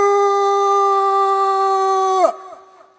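During a comic bharud folk performance, a man imitates a dog's howl with one loud, sustained, steady howl that drops sharply in pitch at the end and then fades.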